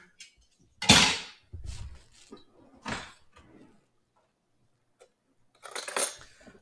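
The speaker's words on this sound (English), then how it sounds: "Just going to mix around with a spoon." A spoon stirring a wheat gluten jerky mixture in a bowl makes a few separate scraping and clinking strokes, close and fairly loud, with quiet gaps between them.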